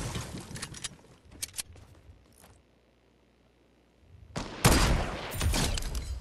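Gunfire in Fortnite Battle Royale, a sniper rifle among it: sharp, scattered reports early on, a near-silent lull, then a loud, dense burst of shooting.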